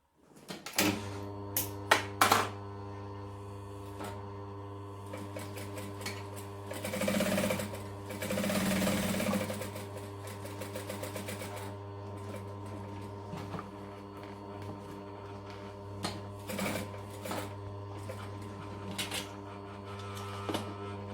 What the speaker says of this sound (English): So then we're just going to top stitch around each of those.